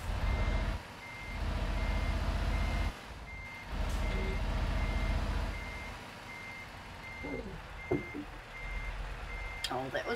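Reversing alarm on a truck backing into a spot in Euro Truck Simulator 2, a steady evenly spaced series of beeps over a low rumbling engine, with people talking and chatter over it.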